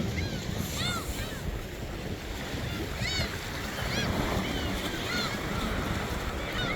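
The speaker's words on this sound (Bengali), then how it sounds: "সাগরের যেই গর্জন" A steady roar of sea waves on a Korean seashore runs throughout, mixed with wind buffeting the microphone and occasional bird calls over it.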